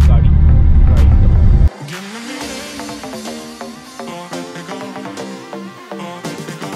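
A car accelerates along a scenic country road, a loud close rumble at first that drops off and gives way to a steady engine hum with clicking and knocking from inside the cabin.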